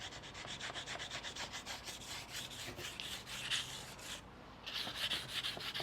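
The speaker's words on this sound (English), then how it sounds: "you will be using a very small sandpaper" Small sandpaper worked by hand over a curved car part with multiple curves, producing quick, rhythmic close-up scratching strokes with a brief pause, then continuing, and no talking.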